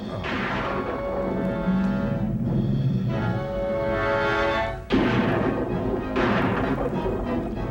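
Gunfire from the soundtrack of the film Bride of the Monster sounds as loud, booming blasts and crashing bursts over a dense, continuous background, with sharp hits around the middle and later on.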